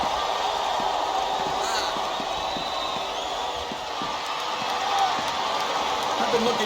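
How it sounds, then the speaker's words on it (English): A capacity wrestling arena crowd during a Big Show versus HHH match, a steady roar of cheering and noise from a large audience throughout, with thumps and slams from the ring underneath. "This capacity crowd is making their opinions known tonight."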